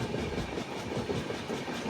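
Special fare express train 07056 from Anakapalle to Secunderabad rolls through the Moula Ali cabin bypass with a close, steady rumble and rattle of coaches and no talking.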